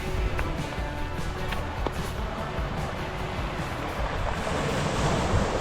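Sea waves wash onto Laxey Beach on the Isle of Man, a steady broadband surf roar with light wind noise across the whole stretch and no talk.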